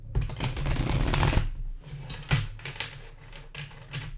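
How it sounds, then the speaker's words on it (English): Tarot cards are shuffled up close: a dense riffling burst followed by several quicker flicks and taps as the deck is worked. "That was a better shuffle."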